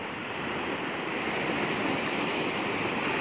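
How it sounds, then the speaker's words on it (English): Ocean waves wash steadily onto the shore in a continuous, broad roar of surf, close and even in level, with some wind rumble mixed in and no voices. "as I sit before the ocean"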